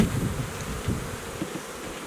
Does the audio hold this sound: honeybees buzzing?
yes